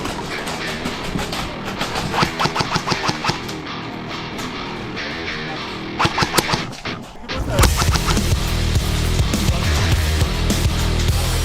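Airsoft rifle fire comes in rapid bursts of sharp cracks, first one run of shots and then a second shorter run, before a louder, denser stretch of noise takes over. Faint voices can be heard in the background.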